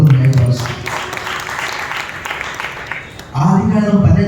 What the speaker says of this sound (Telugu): చప్పట్లు కొట్టి మన ప్రభువుని మహిమపరుస్తాం